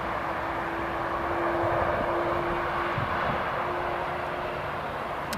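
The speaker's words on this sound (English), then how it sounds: "You can hear the engines just being started there." Jet engines spooling up at Newcastle International Airport, a steady broad roar with a sustained whining tone held throughout, distant and continuous with no voices.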